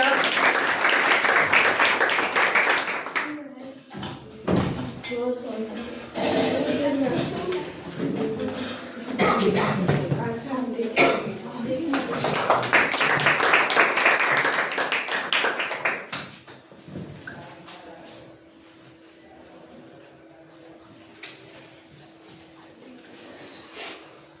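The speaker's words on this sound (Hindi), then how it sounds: "शिव कुमार के लिए जोरदार ताली स्वागत करेंगे।" Audience applause for a student placed fifth in a Hindi test at a coaching-class result ceremony, bursts of clapping rising and falling amid talk and noise, louder in two stretches before fading to a quieter hum.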